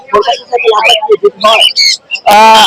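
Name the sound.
lovebirds calling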